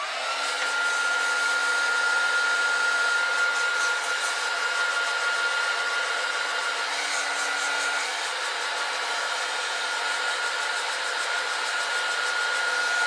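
Handheld heat dryer drying ink on a paper craft project, a loud, steady whirring blow close by that holds for the whole stretch, and nobody speaks.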